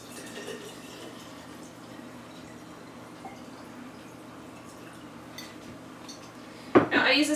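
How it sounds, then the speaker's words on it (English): Water poured into a sterilized glass jar over ginger and fruit for homemade fruit kvass, a brief close splash and fill arriving after several seconds of quiet room hum. "I'm just going to pour my water"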